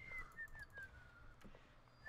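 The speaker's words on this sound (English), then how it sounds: "Well, that whistling though." A melodic whistled tune from Bioshock Remastered plays fairly quietly in a few rising and falling phrases over low background game ambience.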